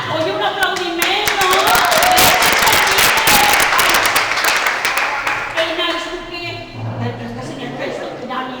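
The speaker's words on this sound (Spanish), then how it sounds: "oye, un aplaudimiento" An audience at an awards ceremony for a short-story contest claps in a dense, sustained round of applause that gradually thins out, with voices talking over it.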